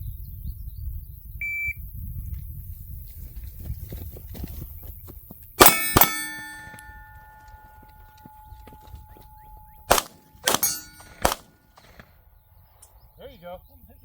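Sharp gunshots in a timed shooting drill, one loud report followed by a quick cluster of three or four more shots a few seconds later, each ringing out over a quiet outdoor range with low background rumble.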